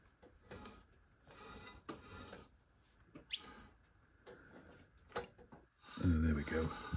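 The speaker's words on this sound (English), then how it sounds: "the wheel's spinning freely in the caliper" A freshly fitted wheel on a Triumph Silver Jubilee Bonneville T140V motorcycle spins in its brake caliper, making a faint, repeating scraping rub close by.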